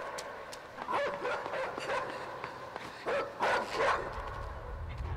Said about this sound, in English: That damn Nazi dog.